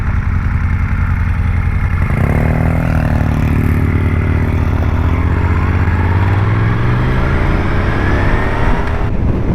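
A BMW R nineT or Moto Guzzi Griso 1200 motorcycle with an enormous aftermarket exhaust, ridden along coastal roads near Maple Bay. The engine roars loud and close throughout, with a surge of revs climbing through the gears from about two seconds in, with no talk.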